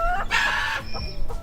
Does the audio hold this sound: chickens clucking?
yes